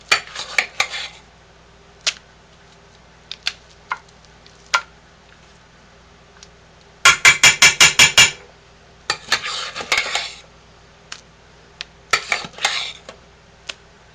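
A metal pot scraped out after making homemade lye soap, with scattered clinks and scrapes, then a fast rhythmic run of about a dozen sharp metallic scrapes, followed by more irregular scraping and taps, close and loud.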